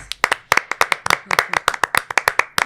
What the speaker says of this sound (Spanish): Saludos y un aplauso para estas grandes mamás